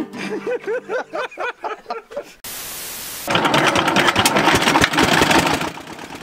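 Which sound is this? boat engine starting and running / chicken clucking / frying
boat engine starting and running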